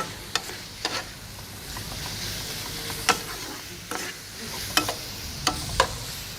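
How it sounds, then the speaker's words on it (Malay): Minced meat for murtabak frying in a pan, an even crackling sizzle with intermittent scraping clicks as it is stirred, close by and with no talking. "kita biarkan sementara dia sehingga dia agak-agak masak, daging masak dan garing sedikit"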